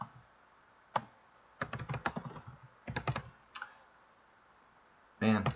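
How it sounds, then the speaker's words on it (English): Typing on a computer keyboard during web programming work, several close bursts of clicky key presses separated by pauses, with a short stretch of talk at the end. "can't type when you're under pressure"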